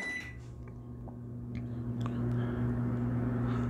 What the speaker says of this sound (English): So my first use of this, it sounds like a regular microwave.